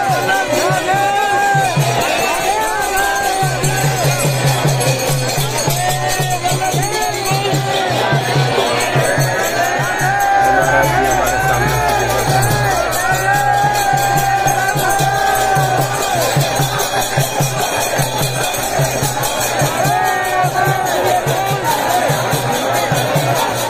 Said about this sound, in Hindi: देखिए भीड़ कितनी भीड़ है